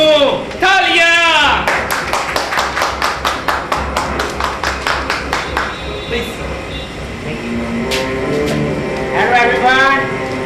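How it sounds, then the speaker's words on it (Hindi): Clapping during a stage play about Shaheed Udham Singh, a run of sharp, evenly spaced single claps that slowly fade, with voices speaking before and after. "तालियां।"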